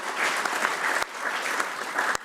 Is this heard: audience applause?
yes